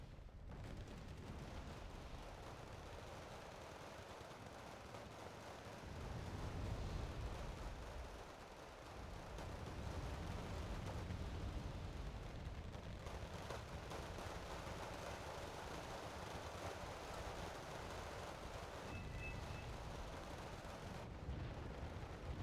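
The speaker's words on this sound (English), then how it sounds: "There's a constant artillery barrage." A constant artillery barrage in the Wargame Red Dragon video game, heard as a dense, low rumbling roar of overlapping distant blasts that swells and dips without letting up.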